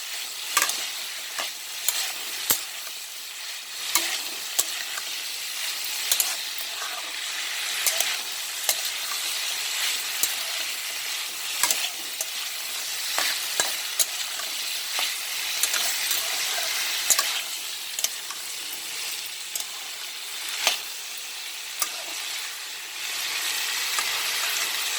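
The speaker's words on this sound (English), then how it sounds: "And we'll keep on frying it on high flame" Potatoes and long beans sizzle steadily in a hot pan on high flame while a utensil stirs and scrapes, with frequent clinks and taps against the pan throughout.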